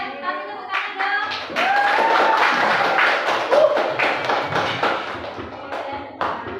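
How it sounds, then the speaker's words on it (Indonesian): Classroom applause from a group of students, a burst of clapping and tapping lasting several seconds, fairly close, mixed with children's voices and a few thumps. "Kasih tepuk tangan dong."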